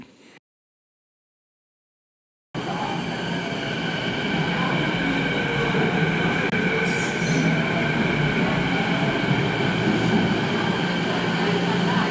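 After a brief silence, a downtown transit train rumbles steadily close by with wheels squealing faintly over the continuous roar.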